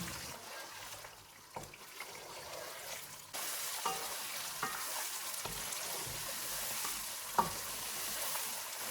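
Mutton karahi frying in ghee in a wok-like karahi over medium heat, stirred throughout: a loud, steady sizzle that grows stronger partway through, broken by scraping strokes and an occasional sharp clack of the spoon.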